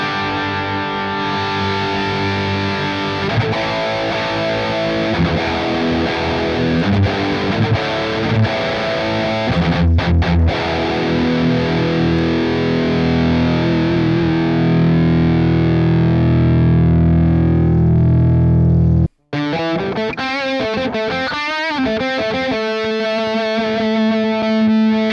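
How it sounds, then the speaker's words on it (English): An electric guitar plays through a Guitar ML pedal model, the tone growing thicker and more distorted as the gain rises, ending in a short break and a few choppy phrases. "When I increase the gain, you will hear how well the pedal responds to the gain settings."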